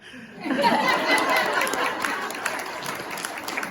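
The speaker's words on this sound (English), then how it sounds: "I'm going to stop for a little applause" An audience breaks into applause after a short quiet start, clapping mixed with chuckles and chatter, peaking early and then tapering gradually.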